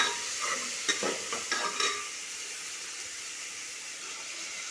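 Chopped onions sauté loudly in a hot pan, a steady close sizzle with a few quick stirring scrapes early on, and no voices.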